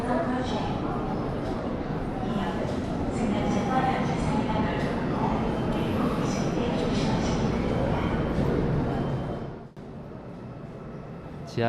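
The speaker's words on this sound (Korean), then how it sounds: "지하철이 들어오고 있어요." A subway train rolls into a station in Korea with a continuous loud rumble and rattling that fades near the end, while people talk throughout.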